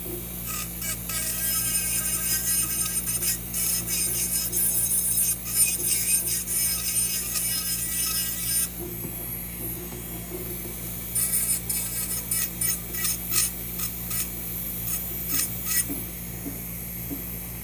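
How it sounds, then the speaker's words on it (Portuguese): Fine scratchy rasping of a nail file worked back and forth in quick strokes on a gel nail near the cuticle, close and soft, pausing briefly midway before resuming. "E vamos lixando, tá?"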